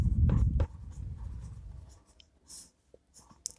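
Scratchy writing strokes on paper while drawing a quadrilateral construction, a few sharp bursts and then lighter intermittent scratches, close and fairly quiet with no talking.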